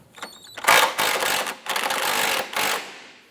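A large cradle bolt on a 2004-2008 Acura TL front subframe is loosened with a power tool, giving several loud, close bursts of rapid mechanical rattling separated by short pauses.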